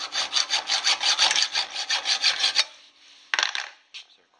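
A hand saw cuts a soft mild steel rivet clamped in a vise, with quick, steady back-and-forth rasping strokes up close, then a pause and a brief final scrape.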